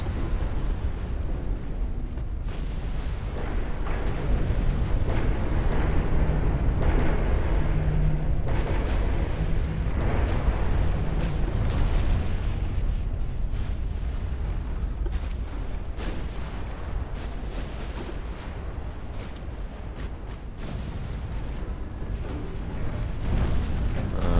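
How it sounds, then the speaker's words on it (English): Warships exploding in battle in the Ultimate Admiral Dreadnoughts naval video game, with rolling booms and artillery fire in a dense, continuous roar of heavy blasts. "There's something wrong with your ships today, Germany. They seem to be exploding a lot."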